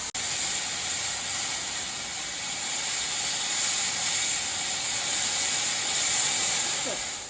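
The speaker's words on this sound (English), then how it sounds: "shut the regulator and open the drain cocks to let all" Steam locomotive S15 506 on the Severn Valley Railway venting pressure through open drain cocks: a loud, steady broadband hiss runs unbroken for the whole stretch.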